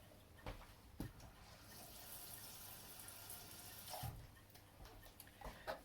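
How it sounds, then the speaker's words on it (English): Water runs softly from a kitchen tap while tomato tins are rinsed out for a roasted red pepper soup, a quiet steady flow broken by a few light metallic clinks and knocks. "Rinse around the tins to get"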